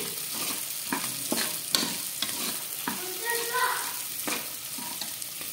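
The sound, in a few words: cashews and green peas frying in a pan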